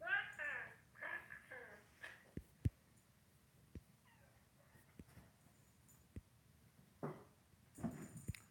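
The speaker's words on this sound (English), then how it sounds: "starts making weird, like, throaty, gargly sounds when he's meowing" A cat lets out a few throaty, gargling meows close by, then quiet with occasional clicks and a soft vocal sound near the end.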